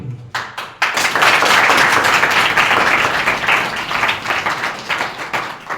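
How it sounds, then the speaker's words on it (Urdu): A church congregation bursts into loud, sustained applause after a sermon, dense clapping filling the room after a few scattered opening claps. "خدا ان کی زندگی بخش کلام کے لیے ایک بار پھر سے زوردار تالیاں"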